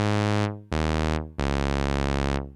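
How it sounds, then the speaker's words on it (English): Sawtooth waveform tone from a Casio CZ-101 synthesizer: three sustained, bright, buzzy held notes in a row, the first fading out, with short gaps between them and nothing else playing. "Now the first waveform by default is a sawtooth, which sounds like this."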